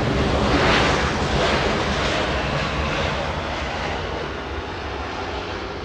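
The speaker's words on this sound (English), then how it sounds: "United 33, a Dreamliner flying in from Tokyo Narita." A United Boeing 787 Dreamliner arriving at LAX from Tokyo Narita, its loud, steady jet engine roar filling the air close by and easing slightly as it continues, with no voices.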